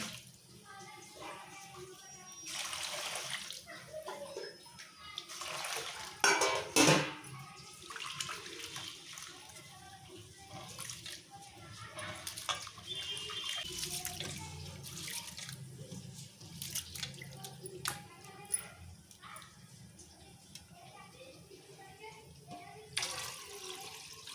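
Running water splashes and trickles steadily as rice is rinsed in a basin, with occasional clinks and soft rustling throughout.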